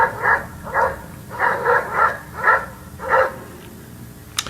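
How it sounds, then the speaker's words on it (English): Defensive, threatened barking from a dog: about eight choppy, explosive barks in quick irregular bursts, fairly close and loud, with no talking over them. "That's kind of common defensive or threatened barking."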